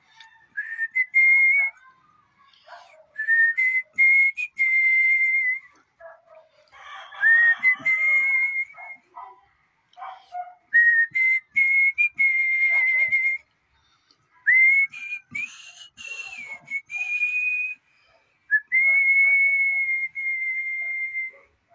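One person whistles a series of short melodic phrases, each rising and then holding a steady pitch, separated by brief silences, close and clear with no other sounds around.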